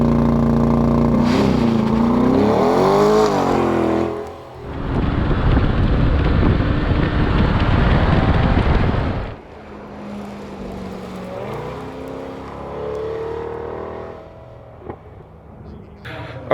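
A Chevrolet C8 Corvette with magnetic ride on an autocross track, its engine revving and rising in pitch, with a loud burst of wind rush in the middle and quieter running after.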